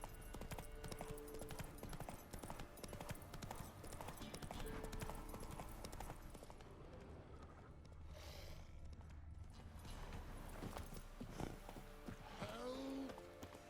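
Roach, the horse in The Witcher 3 video game, gallops with quick rhythmic hoof clip-clops under dense game music and ambience, with a whinny partway through.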